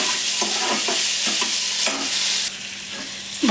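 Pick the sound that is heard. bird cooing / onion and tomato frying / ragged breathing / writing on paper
onion and tomato frying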